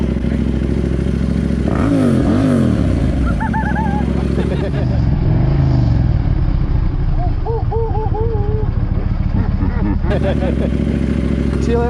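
Motorcycle engine idling loudly and revving up and down in a street setting, a dense constant rumble with rising and falling pitch, with people talking over it.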